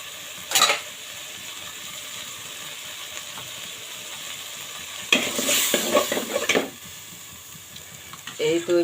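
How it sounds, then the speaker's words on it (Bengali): Haleem mix being stirred into cooked meat in a pot, a low sizzle under clattering spoon scrapes, with two bursts of vigorous stirring and a later round of scraping, near and fairly loud. "এখন এটা শুকিয়ে না যাওয়া পর্যন্ত জাল দিতেই হবে, ঘন ঘন নাড়তে হবে, তার কারণ নিচে লেগে ধরতে পারে।"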